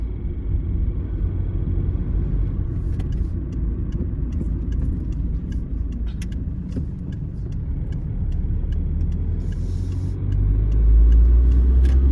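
Steady low road rumble and engine drone from inside a car driving on a cold morning, continuous and even, growing slightly louder near the end, with a few faint ticks above it.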